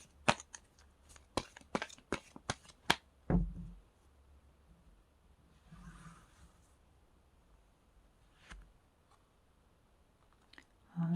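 Tarot cards being shuffled and drawn, a quick run of sharp close card snaps and flicks, then sparse soft rustles and taps with long quiet gaps between them.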